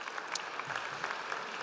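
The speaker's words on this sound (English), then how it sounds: "Let's give a round of applause for Alan Hershkowitz" Quiet, distant applause from the audience at an alumni association gala dinner, a soft steady patter of many hands lasting under two seconds.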